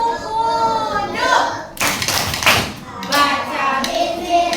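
Children doing the tepuk wudu clapping game for ablution in a classroom, bursts of sharp, fairly close group claps mixed with chanting voices in a loose rhythm.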